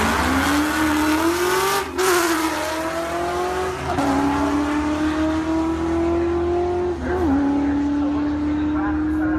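Ford Mustang charging down a drag strip, engine revving in a steady high drone with brief dips at gear shifts, loud and continuous, with voices faintly underneath.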